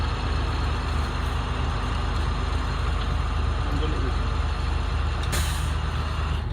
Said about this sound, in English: we know it's fully charged when you hear this sneeze sound